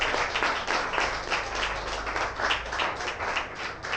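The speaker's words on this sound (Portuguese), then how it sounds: "Quem crê nisso, dá uma salva de palmas ao Deus de Jonas." A church congregation claps and cheers in praise to God, a dense, steady wash of applause filling the room with rhythmic clapping throughout, fairly loud and close, with no talk over it.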